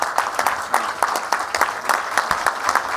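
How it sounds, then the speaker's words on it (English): Applause for Harry Keswani at a foundation charity ball: a room of guests claps steadily, with sharp individual claps standing out over a dense, even patter. "Please join me in giving our friend Harry Keswani a round of applause."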